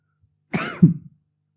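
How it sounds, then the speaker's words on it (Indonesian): One short, close cough with a throaty double burst, followed by quiet. "Itu batuk."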